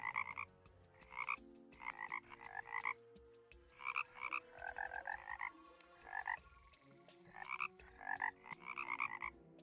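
Repeated bursts of frog croaking from Terraria, in pulsing clusters of rapid calls separated by brief gaps, steady and moderately loud over a faint game soundtrack, with no talking.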